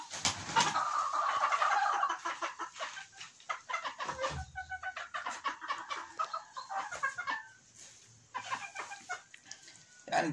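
Several ornamental İspenç chickens cluck and squawk continuously in a busy, close-up chorus inside a coop, with clattering and scratching noises mixed in throughout.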